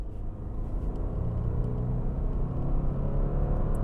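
A 2024 Subaru Impreza RS hatchback with a CVT accelerates, heard from inside as a low steady engine rumble and whir that builds gradually, with no talking.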